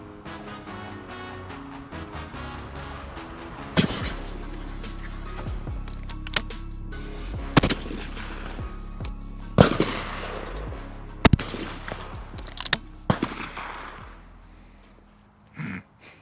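A Browning 30-inch, 3-inch chambered multi-choke shotgun fires at clay targets outdoors. Half a dozen loud, sharp reports come at irregular intervals, each followed by a short ringing tail, with a brief muffled bump at the very end.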